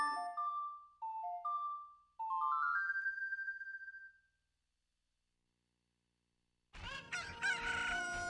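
A cucco crowing in Ocarina of Time, a loud synthesized cock-a-doodle-doo with rising stepped notes, then silence before busy game sounds return.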